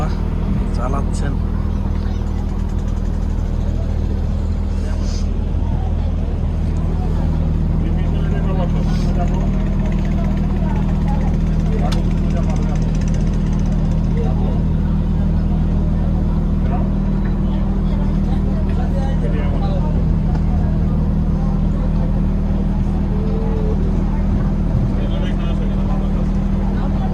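A passenger launch engine drones loudly and continuously as the boat travels a full river toward a ghat, a steady low hum running underneath a person talking the whole time.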